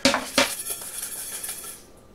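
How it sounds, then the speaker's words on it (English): Cookie dough shaken around in a bowl of colored sugar, a close rattling and clinking against the bowl with two sharper knocks at the start, then a fading granular swish. "flick it into a bowl of colored sugar, shake it all around"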